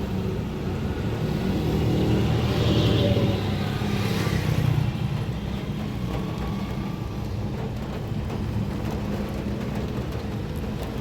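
A car engine idles steadily after being switched on, with a diagnostic scanner plugged in to check for high fuel consumption and black smoke. A continuous low rumble stays fairly loud, swelling slightly in the first seconds, with no talking.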